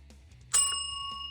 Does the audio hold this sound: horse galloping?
no